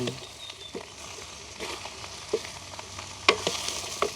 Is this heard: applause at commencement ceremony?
no